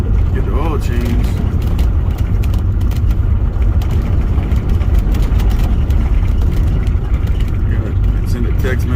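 A truck engine idles with a loud, continuous low rumble while it waits to be brought in for an oil change near a container yard; someone talks over the noise.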